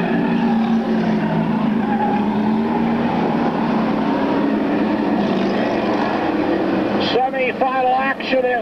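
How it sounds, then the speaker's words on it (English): Stock cars race around an oval track at a 1996 night event, with loud roaring engines passing close and tires scrubbing through the turns while an announcer calls the race over the noise. "As Norm Dryden now looks to the inside, the sophomore driver in the 51 trying to take it away from leader Doug White, puts it together through the 3-4 turn"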